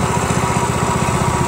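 A Predator 212cc horizontal-shaft small gas engine from Harbor Freight idles steadily up close, its low, even putter loud and continuous with no voices over it.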